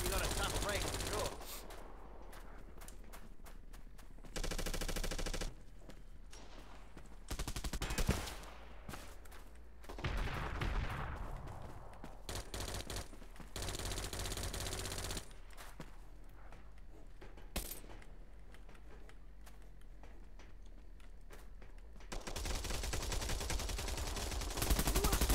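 Gunfire from the online shooter Bullet Run erupts in loud, ragged bursts of rapid shots with short pauses between volleys, mixed with scattered footsteps and a player talking over the action.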